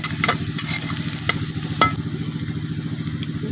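Garlic paste sizzles in hot oil with onion and green chili in a wok: a steady nearby frying hiss, a few sharp stirring clicks, and a low droning hum throughout.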